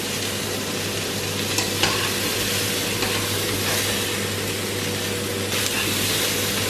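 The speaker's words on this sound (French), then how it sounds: "On va laisser un peu colorer les légumes, mais toujours en tournant, hein." Chopped vegetables sauté in a pan for a student-style vegetable soup, sizzling loudly and steadily while a spoon stirs them, with occasional faint clinks and scrapes against the pan.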